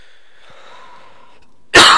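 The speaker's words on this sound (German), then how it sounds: "Perfekt, am Anfang des Parts schon zu husten." A single sharp cough bursts out at the very end after near-silence with only faint background tones, loud and close.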